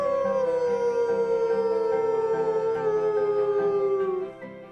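Human voice imitating a wolf howl at the water's edge, one long sustained howl that slowly falls in pitch and then fades, heard alone and fairly loud.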